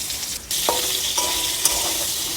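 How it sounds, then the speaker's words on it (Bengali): Vegetable stalks frying in hot oil left over from frying potatoes, a steady close sizzle broken by a few soft stirring scrapes and clinks, with no voices. "ওই তেলের মধ্যে ডাঁটাগুলো ভেজে নেব"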